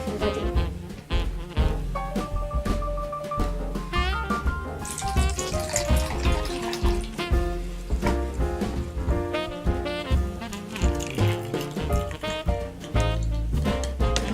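Water poured from a measured 50 ml into a small cup holding a teaspoon of magic snow powder, a steady close pour with splashing and trickling, no talk over it.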